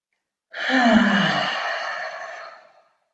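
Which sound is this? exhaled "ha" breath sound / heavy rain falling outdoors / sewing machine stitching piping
exhaled "ha" breath sound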